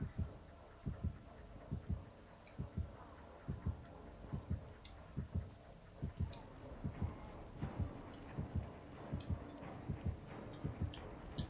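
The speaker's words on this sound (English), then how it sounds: "But I can still hear the heartbeat." In the video game Dead by Daylight, the killer's heartbeat thumps as a low, regular double pulse that repeats steadily throughout over faint background ambience.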